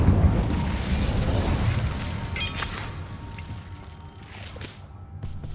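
Incendio fire spell cast in the video game Hogwarts Legacy: a roaring, fiery burst with a low rumble that slowly fades over several seconds, heard alone without talk.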